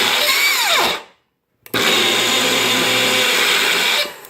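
A Magic Bullet blender whirs loudly as it chops salsa ingredients. It runs in two close bursts split by a short silence, its motor pitch dropping at the end of each run.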